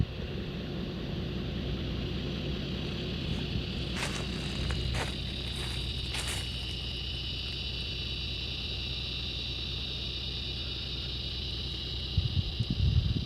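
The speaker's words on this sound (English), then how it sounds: "I just turned it on because there's a cicada" A steady, droning buzz of cicadas in scrub near Rainbow Beach fills the air, constant and fairly loud, with a few brief clicks and rustles near the end.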